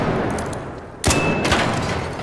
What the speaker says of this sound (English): So we're shooting his booster, correct?